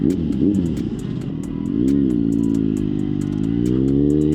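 Kawasaki Z900 motorcycle with a Leo Vince exhaust and airbox removed, idling loud and close with a deep burbling rumble that rises into a steadier, heavier drone, with ticking clatter throughout.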